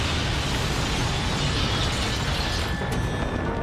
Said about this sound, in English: Because it's an incredibly strong explosion.